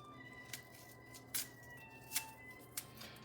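Fresh garden basil leaves torn by hand over a bowl of spaghetti with zucchini: a few short, crisp rips spaced about a second apart, close and quiet over a steady low kitchen hum.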